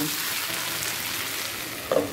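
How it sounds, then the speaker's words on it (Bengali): Close, steady sizzle of paneer frying in a pan on low flame, a brief scrape of stirring near the end, no voices. "ভেজে নেব।"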